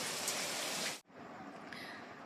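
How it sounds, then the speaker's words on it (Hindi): Heavy rain pours outside a house at night, a dense, loud hiss that cuts out for an instant and then comes back slightly softer. "क्योंकि झमाझम बारिश हो रही है"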